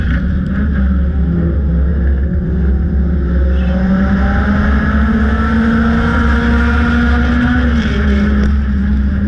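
Four-cylinder class race cars roar around a dirt track in a continuous, loud, close engine drone whose pitch rises and falls slightly as they race.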